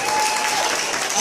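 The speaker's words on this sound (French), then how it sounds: "vous pouvez vous applaudir" Studio audience at a French television preview event applauding, a dense, steady wash of clapping filling the short moment, fairly close and even in level.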